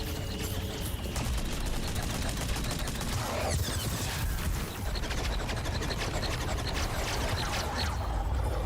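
Mounted turret gunfire from Federation troopers in Metroid Prime 4: Beyond, a dense, continuous fusillade of rapid shots running throughout with battle noise layered on top, loud and sustained.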